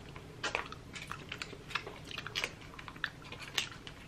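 Hard Japanese candy is crunched and chewed close to the mouth, giving irregular sharp cracks and crunches with short pauses between bites, and no talking.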